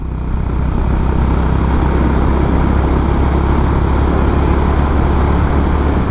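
A Honda Highness CB350 motorcycle cruising on a highway, a loud continuous engine drone mixed with heavy wind rush, steady throughout with no voices.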